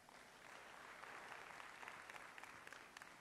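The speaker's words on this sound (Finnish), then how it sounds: "Aplodit siitä." Audience applause at a seminar quiz in Finland, a steady wash of clapping from many hands that holds at a moderate, fairly faint level throughout, with no talk over it.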